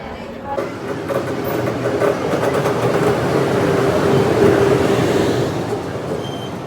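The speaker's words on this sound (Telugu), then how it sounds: "ఎక్కబోయే ట్రైన్ ఇది డూన్ ఎక్స్ప్రెస్." The Doon Express train at a busy Varanasi station, a steady rumbling roll of carriages with clanking wheels rising and fading, with crowd voices and talk in the background.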